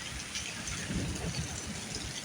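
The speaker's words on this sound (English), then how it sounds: "It's pouring, and this thunder has been thundering for so long." Heavy rain pouring during a severe thunderstorm in Dundalk, Ontario, a dense steady wash of rainfall with low rumbling underneath, continuous and close.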